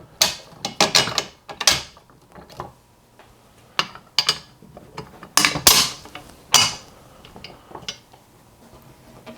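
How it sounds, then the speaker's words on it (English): Metal bolts, washers and nuts clinking and ticking as they are fitted onto the frame of a motorcycle wheel lift stand, a series of close, sharp irregular clicks and scrapes with quiet pauses between them. "Now we're going to install the two bolts to connect these together."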